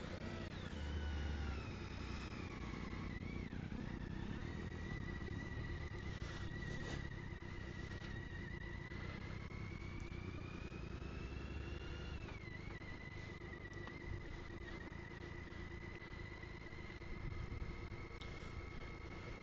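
A motorcycle rides along a country road in the Brenne region of France, its engine droning steadily with a rising and falling tone as it shifts and accelerates, mixed with wind rush.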